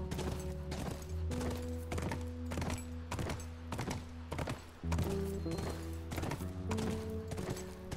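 Steady clip-clop of horse hooves trotting at an even rhythm in The Last of Us Remastered, with a few muffled thunks and a synthetic, game-like tone underneath.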